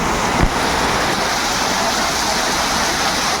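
Heavy rain pours down outdoors as a steady, dense, loud hiss that runs unbroken through the whole stretch, with a brief soft thump near the start and no voices.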